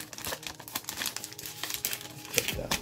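A thick ASRock case badge sticker in a plastic wrapper is handled up close, giving loud crinkling and rustling in quick irregular bursts, with no talk over it.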